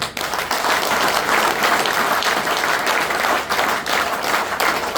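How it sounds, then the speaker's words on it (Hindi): An audience at a training seminar claps together in a loud, steady burst of many hands, with brief dips in intensity and no talking over it. "ताली बजाओ जो।"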